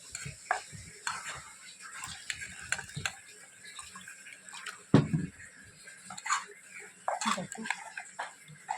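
Water poured into a hot pan sizzles faintly while a utensil stirs and taps in irregular clinks, with soft kitchen background and brief low thuds.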